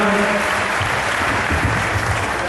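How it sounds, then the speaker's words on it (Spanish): Church congregation in Honduras applauding during a sermon by Pastor Sergio Membreño, a dense, steady wash of clapping with some low murmuring voices underneath, filling the whole stretch at a fairly close, loud level. "Un fuerte abrazo, un fuerte aplauso, Señor"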